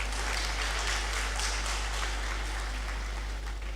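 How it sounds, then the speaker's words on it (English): Continuous audience applause at a university congregation ceremony following a dance performance, steady and moderately loud throughout, with a low hum underneath. "Another round of applause for them,"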